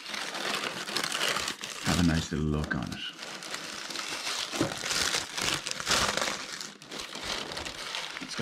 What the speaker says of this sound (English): We've got a nice gold packing paper. We'll open this bad boy up.